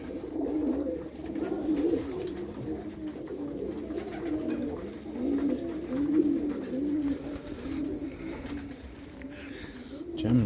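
Pigeons coo steadily while being fed in the evening, a close chorus of low, rolling, overlapping coos that continues throughout with slight shuffling underneath.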